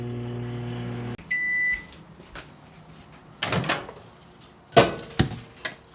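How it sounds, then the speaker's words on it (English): A microwave oven melting mozzarella and cream cheese: a steady hum runs for about a second, then beeps sound, followed by several sharp door clunks and handling knocks close by. "we're going to melt this down in our microwave"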